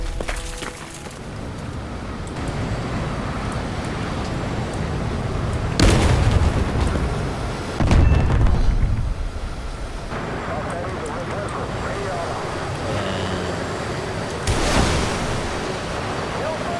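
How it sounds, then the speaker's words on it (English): Rockets are fired from a plane in the video game War Thunder: a low engine drone is broken by several heavy booming bursts, two close together mid-way and another near the end, with a voice talking over it. "And these rockets are so satisfying."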